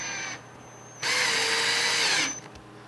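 A power drill bores pocket holes in wood for a step stool: a short whir, a pause, then a louder sustained high drilling whine of more than a second that drops off sharply, all close up.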